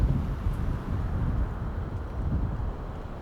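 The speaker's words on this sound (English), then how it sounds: "Wow, it is nice and windy here." Gusty wind blows across the airport at Tolanaro, Madagascar, in Microsoft Flight Simulator 2024 beside a Black Square Starship aircraft: a steady low rumble with buffeting, no voices.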